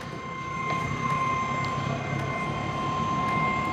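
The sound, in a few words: Airtronic D5 heater fuel pump starting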